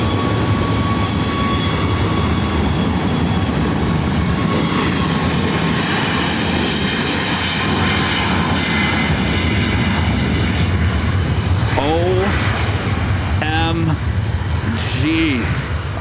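Lufthansa jet airliner at LAX, a loud, steady engine roar that persists throughout, close and dominant, with excited voices chattering over it toward the end.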